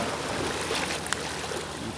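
Sea waves wash against rocks at a natural sea cave on the coast near Sindeok village, Yeosu, a steady broadband surge and hiss of water with one brief splash, no talk.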